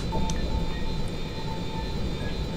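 Steady airplane engine drone from a plane flown in the video game Just Cause 2, a continuous hum holding at even loudness with no voices over it.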